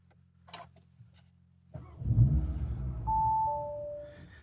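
An Audi RS3 starts up after a few faint clicks and a chime: the starter catches into a loud engine flare near at hand, then settles into a rumbling idle while a two-tone electronic beep sounds.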